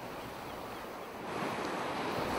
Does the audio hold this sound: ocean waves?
yes